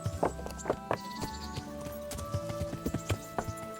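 Horse hooves clip-clop steadily in Kingdom Come: Deliverance, a walking rhythm of soft knocks over low game ambience and a faint tonal music bed, with no talking.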